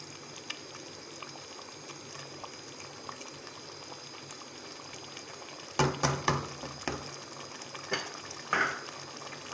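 Whole masoor lentil curry simmers on a low flame with a faint, steady bubbling, then a cluster of sharper pops and clinks rises briefly before settling back to the quiet simmer.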